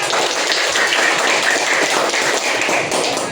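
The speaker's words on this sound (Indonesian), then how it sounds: "Beri tepuk tangan untuk kelompok 1." Schoolchildren in a classroom applaud a presenting group with loud, dense, continuous clapping that stays close and steady throughout.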